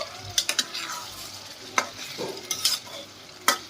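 Chicken liver being stirred with chicken curry spice in a frying pan, with scattered scraping clicks of a utensil against the pan over a soft, steady sizzle.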